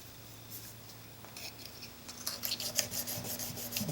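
A Blum plane blade rubbed on a sharpening stone, giving soft rasping strokes that start faint and grow busier and louder in the second half, close by with a low steady hum underneath.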